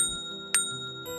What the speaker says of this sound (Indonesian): Suara lonceng semakin mendekat.